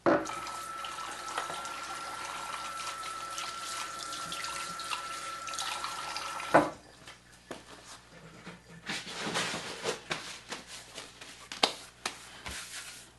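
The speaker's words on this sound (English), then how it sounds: "let me wash my hands" Tap water runs steadily into a kitchen sink during hand washing, then cuts off and gives way to quieter splashing, drips and handling sounds.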